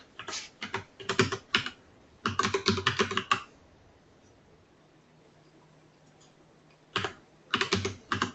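Bursts of rapid computer keyboard typing, close and fairly loud, in three clusters separated by a quiet pause with faint room hum.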